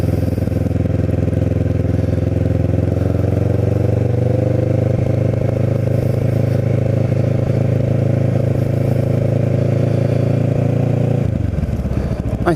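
A Kawasaki Ninja motorcycle's engine rumbles loud and steady while riding, a continuous close drone that shifts slightly in pitch and cuts off abruptly near the end.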